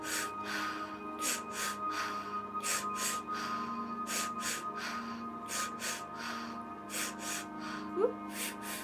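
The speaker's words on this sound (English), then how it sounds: "Sufi breathing." Forceful rhythmic breaths from a Sufi breathing exercise in a guided meditation, a series of sharp nasal bursts in quick pairs and short runs, close and fairly quiet over a soft low hum.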